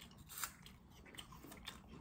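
Crisp, faint crunches of someone biting and chewing a crunchy apple, quiet and close, with a few sharper bites among the chewing.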